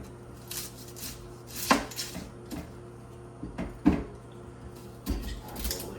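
A kitchen knife cuts into an onion before peeling its skin, giving a few sharp close taps on a cutting board at uneven intervals against a quiet steady room hum.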